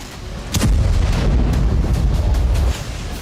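A large blast throws up a mushroom-like cloud of dust and smoke, heard in news footage about a bomb. A loud, deep rumbling boom rolls on for about two seconds, with no voices over it.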